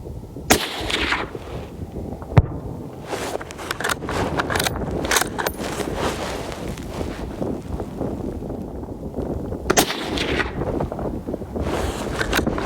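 Gunshots from another shooter at an outdoor shooting range sound as sharp, fairly distant cracks, several spread across the stretch over steady wind rumble and handling noise.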